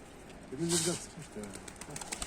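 Pigeon cooing nearby, two soft throaty coos in a row, faint against low background noise.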